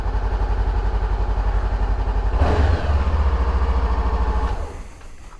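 A 2018 Honda CB500F motorcycle engine runs at a steady idle up close, with a short rev in the middle before it settles and fades near the end; no one talks.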